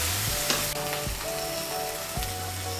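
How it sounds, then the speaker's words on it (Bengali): Spice mix sizzles and crackles steadily as it fries in a pan, with a few scraping stirs and clinks of a utensil, close and continuous with no talk. "মশলাটাকে আরেকটু ভেজে নেব।"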